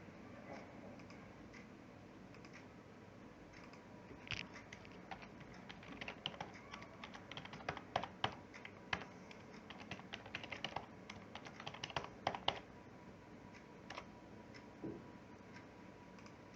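Keystrokes on a computer keyboard as a password is typed on a Windows Server 2012 machine, a quiet, irregular run of soft clicks in brief bursts over low room hiss, no voices.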